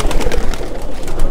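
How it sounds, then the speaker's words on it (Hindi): Pigeons cooing and fluttering close by, a steady busy mix of soft bird calls with no talking. "अच्छे कबूतर हैं कासिम भाई।"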